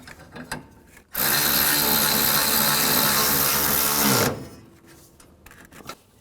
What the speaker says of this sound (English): tighten these bolts down